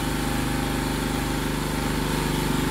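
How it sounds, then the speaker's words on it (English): A Yamaha Big Bear 350 ATV engine idling with the idle raised because of a dead battery, a loud, steady, fast-pulsing single-cylinder putter that holds even throughout. "Battery that's in this thing is shot, so I've got the idle adjusted up so it won't die."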